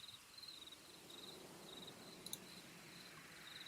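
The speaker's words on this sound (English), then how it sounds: "Again, you hear crickets." Crickets chirp faintly in a quiet setting, repeating in short regular trills over a soft background hiss, with one brief click partway through.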